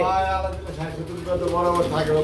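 Feeding pigeons coo in low, throaty warbles close by, with a voice talking over them throughout.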